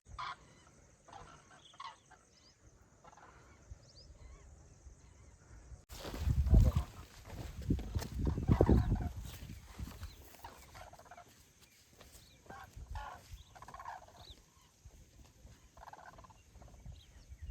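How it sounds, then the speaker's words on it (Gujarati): Birds calling from a lake, gobbling and clucking fowl sounds with water and wind noise, sometimes loud and close, sometimes fainter. "તળાવમાં કેવા સરસ મજાના પક્ષીઓ છે"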